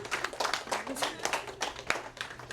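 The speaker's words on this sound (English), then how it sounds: "Can we give them a round of applause for being brave and for coming up?" A small group applauds volunteers at a mindfulness session, a loose scattering of individual hand claps in an uneven rhythm, fairly quiet and close, with a few people talking faintly underneath.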